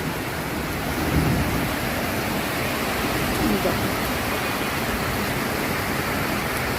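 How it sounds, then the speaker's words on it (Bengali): Heavy monsoon rain pours down on a Sunday afternoon with a dense, steady roar and no pauses. A voice speaks briefly over it. "অঝোর ধারায় বৃষ্টি ঝমঝম করে বৃষ্টি"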